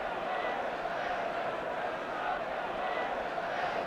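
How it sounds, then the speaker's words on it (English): Manchester United supporters make noise in a crowd of about 46,000 at a Manchester City v Manchester United football match, a steady, distant roar beneath a voice. "And all the noise is coming from the United supporters."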